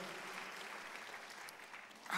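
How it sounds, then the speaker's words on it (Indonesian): A church congregation claps steadily through an online worship service, a dense, even wash of applause that holds at moderate loudness throughout and swells briefly at the end. "Yang percaya tepuk tangan meriah bagi Kristus Yesus Tuhan."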